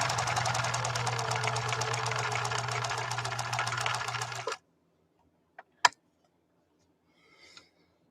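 A 1966 Husqvarna Viking 19E sewing machine stitches through two layers of cowhide, a steady rapid mechanical chatter with low motor hum for about four seconds, then a sudden stop and a few faint clicks.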